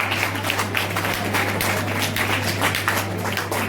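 Audience applause at a university foundation day ceremony in Gwalior, a continuous, somewhat distant patter of many hands clapping over a steady low electrical hum from the hall's sound system.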